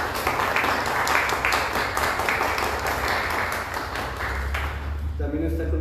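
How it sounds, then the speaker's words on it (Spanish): An audience at a book presentation in a Coatepec cultural center breaks into steady, dense applause that carries on for several seconds before tapering, with a faint voice near the end. "para quien les pido un aplauso, por favor."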